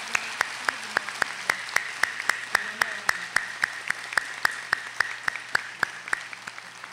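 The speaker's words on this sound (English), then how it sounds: "Let's have a round of applause for all of our faculty and staff and administrators here." At an honors convocation, clapping for faculty, staff and administrators comes as a faint, evenly spaced train of sharp claps in a steady rhythm, slowly tapering toward the end.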